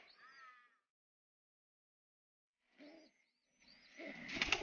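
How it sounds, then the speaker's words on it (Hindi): A pet pigeon coos briefly in a home coop, near and soft, followed by a long silence and then rustling and scuffling noise that grows louder toward the end. "हमारा ये कबूतर"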